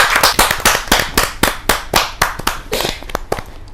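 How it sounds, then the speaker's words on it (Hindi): An audience at a Hindi kavi sammelan poetry gathering claps in sharp, distinct hand claps that come in a loose, fairly steady rhythm. The claps are close and loud and continue without pause. "जोरदार ताली के साथ"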